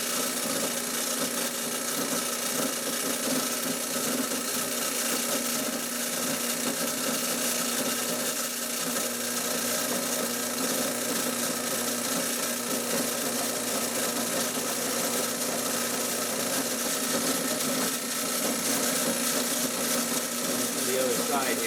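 A drill boring a 3/8 inch hole in a steel trailer, a steady loud high-pitched whine that holds continuously for the whole stretch, close and alone.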